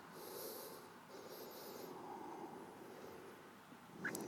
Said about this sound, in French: J'inspire.